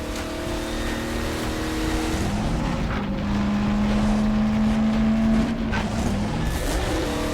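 A car engine strains and drones while climbing a hill without turbo in the video game Half-Life 2: Episode Two, a steady loud rising hum with wind-like rushing throughout and no talking.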